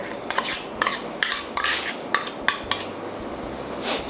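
Whipping cream beaten by hand with a whisk in a bowl, a string of quick scraping, clinking strokes in uneven bursts, close and fairly loud with no voices.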